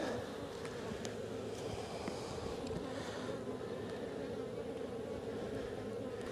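Dense, steady hum of many honey bees swarming around a hive entrance fitted with a pollen trap, continuous and close with no talk, a low droning buzz holding even throughout.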